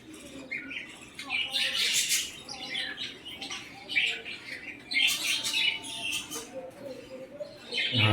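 A flock of pet birds at home keeps up constant chirping and rasping squawks as they feed their young, dense overlapping calls close by with a few louder bursts.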